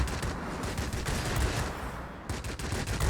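A Vulcan cannon fires in a jet combat game, a rapid continuous burst of loud gunfire that briefly cuts out and then resumes.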